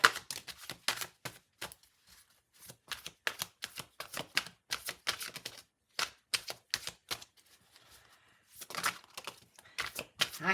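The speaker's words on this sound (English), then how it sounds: "I haven't stopped shuffling because I felt that there was more." Tarot cards shuffled in a series of crisp, rapid riffles and flicks, close up, with short pauses between bursts and no talking.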